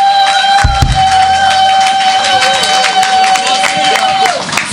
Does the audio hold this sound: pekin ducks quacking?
no